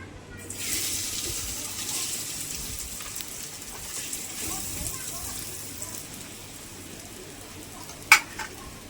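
Potato pakora batter being stirred in a bowl by hand, a steady, soft wet scraping and sloshing that runs throughout, with a sharp knock near the end.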